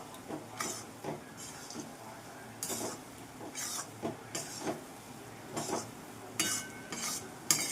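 Moong dal roasts in oil in a pan for halwa while a spoon stirs it, with repeated scraping strokes in a steady rhythm over a soft continuous sizzle, heard close with no voices.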